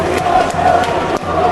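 Football fans cheering in a stadium on a rainy Sunday night during a quarterfinal match, a dense, loud roar of crowd voices throughout.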